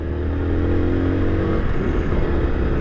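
A 2022 Yamaha Crosser 150 ABS rides by with a steady, close engine drone and a low, rough rumble that slightly shifts in pitch, no voices over it.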